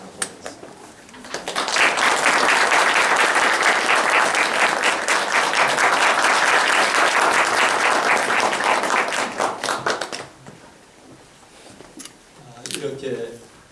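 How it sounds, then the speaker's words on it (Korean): Loud, sustained applause from an audience welcoming a lecturer to the front of a Korean church gathering, swelling quickly and holding steady for about eight seconds before fading into scattered claps. "나오실 때 큰 박수로 보겠습니다"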